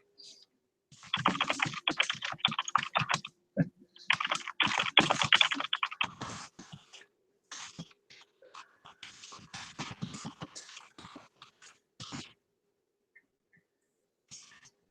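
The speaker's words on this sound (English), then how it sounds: "I'll actually tell you guys what I'm typing" Someone types on a computer keyboard close by, fast bursts of clicking keystrokes with short pauses between runs, fairly loud against a quiet room and trailing off near the end.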